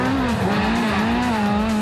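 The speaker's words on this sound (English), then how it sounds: "Car sounds magic going through the forest." Rally car at the 2007 NZRC round 6 in Nelson racing through forest, its engine holding a loud, close, steady high rev with a slight pitch wobble and no voices.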